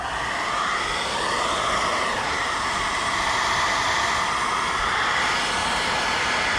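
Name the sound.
hair dryer running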